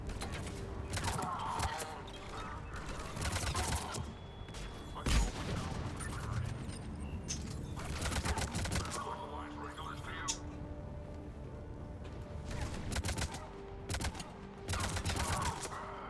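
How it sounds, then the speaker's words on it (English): Gunfire and bullet impacts in the Mass Effect 3 video game, bursts of crackling shots and metallic hits in uneven clusters over a busy game mix, with a voice talking at times. "I love the sound of the bullet impact."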